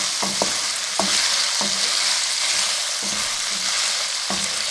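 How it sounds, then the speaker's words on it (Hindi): Okra fries on low flame in a pan, giving a steady sizzle broken by regular scraping knocks of a spoon stirring it, close and clear with no talk. "इस भिंडी को हम उस वक्त तक फ्राई करेंगे जब तक ये भिंडी की लेस मुकम्मल तौर पे खत्म ना हो जाए"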